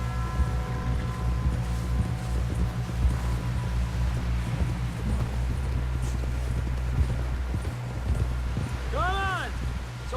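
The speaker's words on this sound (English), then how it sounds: "Someone help John down off this horse" Horse hooves clop at a walking pace in the video game Red Dead Redemption 2, under continuous talk and a low rumbling background, with a brief whooshing sweep near the end.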